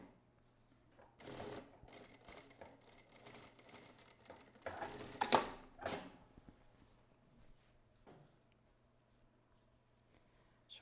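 A sewing machine stitches a corner seam with a 1 cm margin in a few short bursts of fast, whirring stitching. The longer runs fall early and in the middle, and a brief one comes later, separated by quiet pauses.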